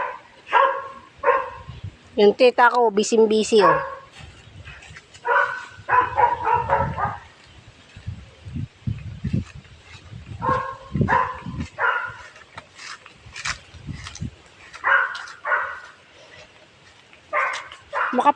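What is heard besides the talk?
many dogs barking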